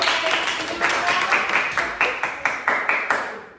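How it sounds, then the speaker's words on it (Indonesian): Elementary schoolchildren in a classroom clap together in quick, close bursts, a bright rhythmic patter of small hands that comes in several distinct waves. "berikan tepuk tangan"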